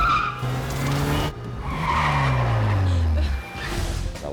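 Car tires skid and squeal in a film chase, with long gliding tonal screeches sweeping down in pitch over engine rumble, loud and close, in an action sequence with an ordinary, non-performance car.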